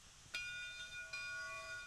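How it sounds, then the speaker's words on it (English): A steam locomotive's bell rings in the train game Railroads Online, with two metallic strikes that leave bright sustained tones ringing steadily throughout, alone over faint background hiss. "Wow, that bell just rings forever."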